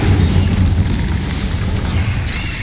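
A fiery Incendio spell blast in the Hogwarts Legacy video game, a loud low booming roar that rumbles steadily for a couple of seconds before a bright crackling shimmer rises near the end.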